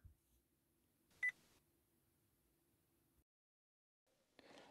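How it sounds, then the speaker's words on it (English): A single short electronic confirmation beep sounds from a Vauxhall Corsa D car, faint and brief in an otherwise quiet interior. "pull both wands towards you and hold until you hear the beep."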